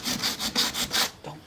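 Coarse 36 grit cloth-backed sandpaper rasps in steady back-and-forth strokes, about six close rhythmic passes, while repairing a cracked fiberglass hatch on a Catalina 25 sailboat.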